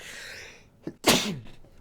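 A single sharp human sneeze bursts out after a short indrawn breath, close and fairly loud, with nothing else around it.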